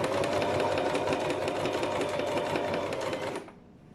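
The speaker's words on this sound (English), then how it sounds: "Now I'm going to continue sewing" A sewing machine stitches fabric with a zip in a steady, loud, rapid hum of needle strokes, running close and alone, then stopping abruptly near the end.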